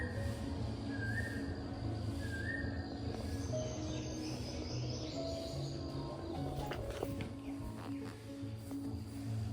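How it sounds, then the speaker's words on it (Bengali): Koel cuckoo calling in spring, heard as a few repeated rising whistled notes at a moderate distance over a dense bed of background noise, insects and a low hum. "বসন্তকালে এরকম কোকিলের ডাকটা এত ভালো লাগে"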